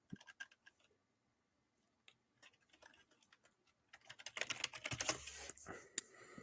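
Someone types a web search on a computer keyboard: a few scattered soft key clicks, a pause, then quicker quiet clatter that builds into a dense burst of keystrokes, close and alone.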